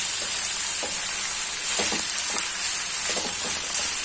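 Onions frying in a pan for Maharashtrian kanda zunka, a steady close hiss and crackle throughout with a few soft stirring scrapes.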